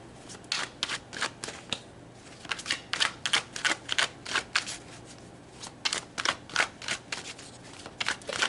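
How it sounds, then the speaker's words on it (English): Tarot cards are shuffled by hand close up, a steady run of crisp riffling bursts and soft card slaps repeating in an uneven rhythm for several seconds, with no talking. "So let's shuffle"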